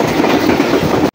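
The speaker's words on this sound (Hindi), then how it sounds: "काफ़ी अच्छी स्पीड में थ्रू पास किया है 10 डाउन अल्लामा इक़बाल एक्सप्रेस ने" 10 Down Allama Iqbal Express passing through Jangal Muradiala station at speed, a loud, steady rush of rail roar and rhythmic wheel clatter that cuts off abruptly near the end.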